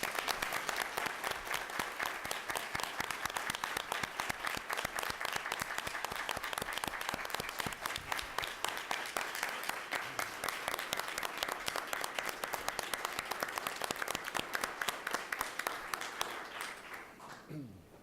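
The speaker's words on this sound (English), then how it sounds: "let's all give a round of applause" An audience at a board of education meeting claps in a long, sustained round of applause, dense and even for about seventeen seconds before it quickly fades out.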